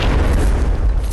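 A grenade blast in the video game Fortnite bursts close and loud, a single deep booming explosion with a heavy low rumble that fills the whole short moment, with no voices over it.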